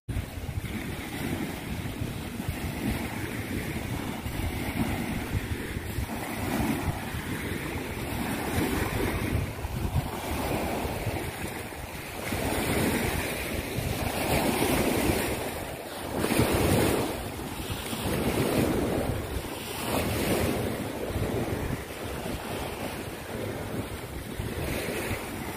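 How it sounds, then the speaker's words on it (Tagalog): Wind and surf pound a white sand beach on Cabalitian Island at high tide, a loud steady roar with waves surging and falling every few seconds under gusty wind buffeting the microphone, no voices. "Ang hampas ng hangin dahil siguro sa high tide."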